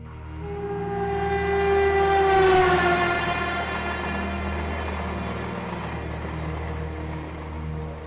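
A passing train rumbles steadily for several seconds, with a long horn-like tone sliding downward near the start as it goes by, loud at first and then easing to a continuous roll.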